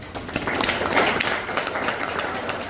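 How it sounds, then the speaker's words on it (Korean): Dense, steady applause from a crowd at a Korean township community meeting, continuous clapping filling the room for a few seconds. "박수 한번 쳐주시죠"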